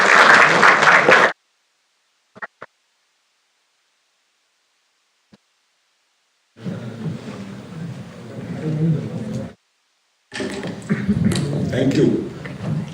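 An inauguration audience breaks into applause in several bursts of broadband clapping, the last two lasting a few seconds each, separated by near-silent gaps.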